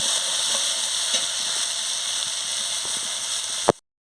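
Poppy seed paste fries in a pan with a steady, close sizzle and some light stirring scrapes, the frying noise cutting off abruptly near the end.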